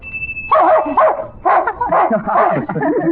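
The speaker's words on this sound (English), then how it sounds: "And he barks till he gets it" A dog barks repeatedly in loud, close bursts, several barks in quick succession with short yips between them.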